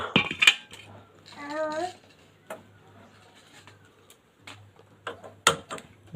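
An iron griddle (tava) is set down and cleaned, with sharp metallic clanks at the start and end, scattered scraping in between, a pigeon cooing briefly, and a low steady hum underneath.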